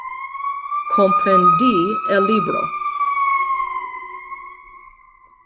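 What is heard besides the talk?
emergency vehicle siren passing outside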